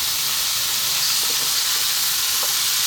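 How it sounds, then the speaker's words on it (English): Cooked lentils hitting a hot pan for a vegetable stew, a loud continuous sizzle and hiss with faint stirring scrapes underneath, close and steady throughout. "Now I'm going to add our cooked lentils."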